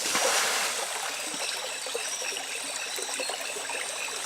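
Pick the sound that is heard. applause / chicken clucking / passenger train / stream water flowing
stream water flowing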